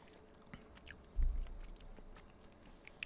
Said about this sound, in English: I've got chewing gum in my mouth, but oh well.